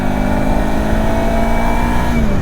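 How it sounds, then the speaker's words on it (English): A Mutt Stravaig 400 motorcycle exhaust drones loudly and close up while accelerating in third gear, a steady engine note that climbs smoothly in pitch with no talk over it. "there is actually quite a nice sound from that exhaust at speed"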